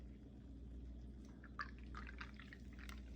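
Beer poured from a can, a faint trickle of liquid with scattered small drips and splashes over a steady low background hum, quiet and close.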